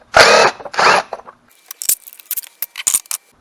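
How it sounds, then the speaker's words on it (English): An electric impact gun buzzes in two short bursts to remove the 10mm timing cover bolts on an EZGO golf cart engine, followed by light metallic clinks and jangling of loose bolts and tools. "we're going to get our electric impact gun"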